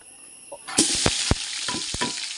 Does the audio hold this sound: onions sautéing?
yes